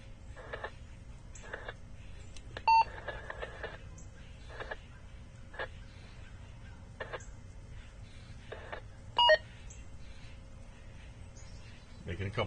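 A radio scanner gives short electronic beeps while its settings are changed on a porch, two brief bright bursts about six seconds apart over a low, steady background hum.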